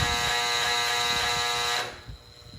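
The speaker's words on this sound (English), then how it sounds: "We're taking turns welding right now." Steady harsh electric buzz from welding new cleats onto a tractor wheel on a small farm, loud and continuous for nearly two seconds before cutting off and leaving quieter background noise.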